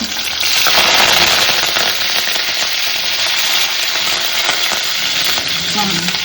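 Mustard seeds and green chillies frying in hot oil in a pan, a loud, steady sizzle with crackling pops running throughout, no voices over it.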